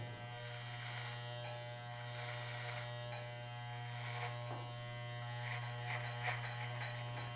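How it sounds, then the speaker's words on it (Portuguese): An electric hair clipper buzzes steadily and close while cutting hair in a faded haircut, a constant hum with light scratchy textures as it passes through the hair. "A máquina passa reta em direção ao teto sem afundar a máquina na cabeça"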